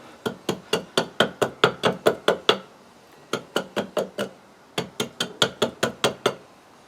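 Axe strokes trimming the corners of an applewood bowl, short sharp chops in quick rhythmic bursts of about ten, then a pause and two more volleys, loud and close with no talk.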